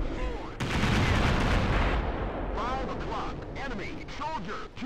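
Bursts of gunfire in a video game mission, a dense loud volley followed by scattered shots and crackle, with voices talking over it.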